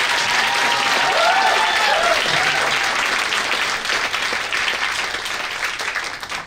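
Audience at an opening-night theatre Q&A cheering and applauding loudly and continuously, dense clapping with a few whoops rising above it, gradually easing toward the end.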